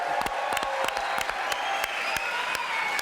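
A television studio audience applauds with a dense, steady wash of clapping. Louder sharp claps or thumps cut through it at a regular beat, roughly three per second.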